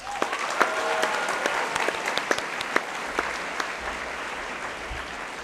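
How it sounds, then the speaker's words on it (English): Graduates at a 2024 high school graduation ceremony applaud themselves, a steady wash of crowd clapping with a few sharper individual claps standing out. "So let's give ourselves a round of applause."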